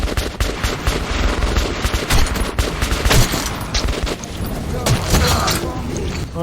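Gunfire in Metro 2033 Redux: bursts of rapid shots with booms and mechanical clatter, loud and close throughout, with a voice partly heard in the mix.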